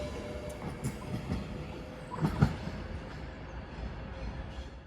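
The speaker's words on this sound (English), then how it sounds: "off goes 390-112 for Manchester Piccadilly." A Class 390 electric train rumbles steadily as it pulls away from Stoke-on-Trent station, with faint rhythmic clicks from the wheels and a dull hum of motion.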